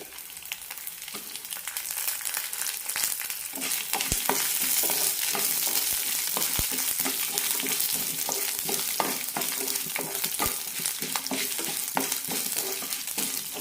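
Garlic cloves, small shallots and green chilies frying with lentils in a pan for drumstick-leaf chamanthi, with a steady close sizzle and occasional stirring clicks of a spoon against the pan throughout.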